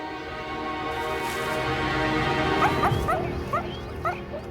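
Repeated sharp, high meerkat alarm barks, yips and chirps over a steady background hiss, getting busier toward the end.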